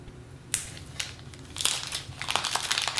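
Plastic pouch holding a manual wrapped around a micro USB cable for a JBL GO2 Bluetooth speaker is unwrapped up close, giving sharp crinkling and crushing bursts that grow denser toward the end, with no talking.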